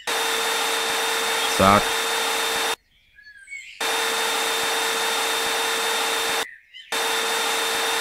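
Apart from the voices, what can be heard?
vacuum cleaner in video game Garage Flipper Simulator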